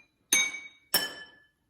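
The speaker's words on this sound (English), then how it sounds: "you can make music by tapping your water xylophone. I used a spoon" A spoon taps a glass cup of water in a homemade water xylophone, two bright ringing clinks about half a second apart, each leaving a clear sustained tone.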